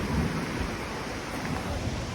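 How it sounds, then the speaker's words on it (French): Thunderstorm rumbling near a cave at the foot of Swiss mountains, with a river close by; a steady, dense roar fills the whole stretch with no clear separate cracks, loud and continuous. "il y a un orage que vous allez sûrement entendre"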